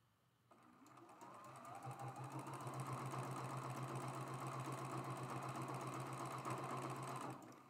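A sewing machine stitches a straight seam on a traditional quilt block, a steady close whirring hum that starts after a short pause and runs continuously for about seven seconds before stopping.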